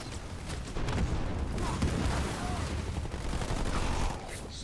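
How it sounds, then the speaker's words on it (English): Dense, continuous gunfire from ground troops in the video game Halo Wars 2, a steady roar of overlapping shots and blasts at close range that holds for the whole stretch and fades slightly at the end. "I'm taking fire from ground troops."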